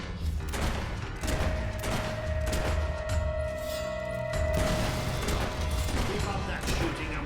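Battle in the video game Fable 3, with rapid bursts of gunfire and crashing impacts layered densely over one another, loud and continuous, and a voice talking over the noise.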